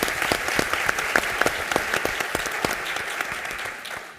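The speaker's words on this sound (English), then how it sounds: "maybe a round of applause for their achievements for being admitted" An audience at a law school event claps for incoming law students: a dense, even round of applause that holds steady and then tapers off near the end, with no voices over it.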